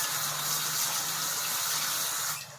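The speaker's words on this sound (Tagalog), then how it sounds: "Kaya naglilinis po tayo ng lababo natin." Steady running water from a tap into a kitchen sink during cleaning, a continuous close hiss that tapers off near the end.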